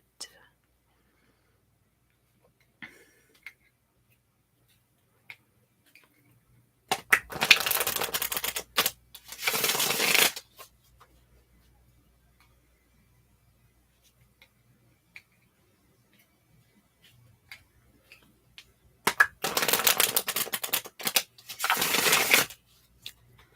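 Two bursts of rapid, crisp tarot card shuffling separated by long quiet stretches with faint soft taps and clicks.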